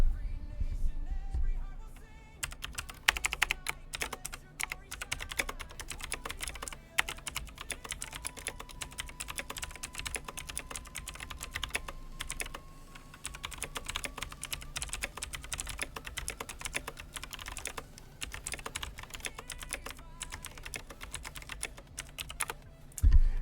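Steady, continuous clatter of keys on a computer keyboard, close and clear, with dense rapid keystrokes running throughout and a faint tone drifting underneath; no voices.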